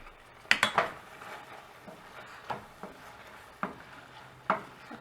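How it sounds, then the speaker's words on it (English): Whole wheat penne pasta tumbled into a homemade white sauce in a pan, giving a few close clattering knocks and scraping stirs early on, then sparse single clinks against the cookware with a quiet kitchen hush between. "I just throw the pasta into my sauce."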